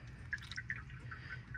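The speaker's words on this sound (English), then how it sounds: "And just slowly pour the quarts in there just like that." Motor oil for a Dodge Charger R/T engine is poured slowly from a quart bottle into a funnel, giving faint, close glugging and dripping liquid sounds over a low background rumble, no talking.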